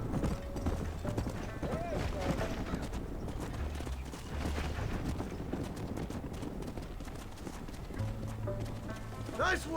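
Horses gallop in the video game Red Dead Redemption on PS5, with rapid hoofbeats clopping close and loud. Game voices speak over the hooves in places.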